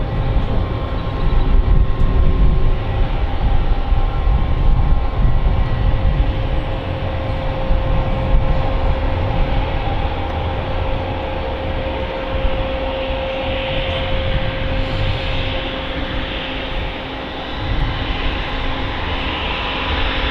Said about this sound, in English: The Emirates Triple is taxiing down.